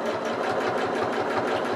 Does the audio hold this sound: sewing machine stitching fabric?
yes